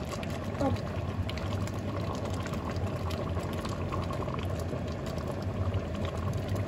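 Tomato sauce with seasoning and oil simmers in a pot, giving a steady, dense bubbling hiss that runs evenly throughout at moderate volume, with faint background murmurs.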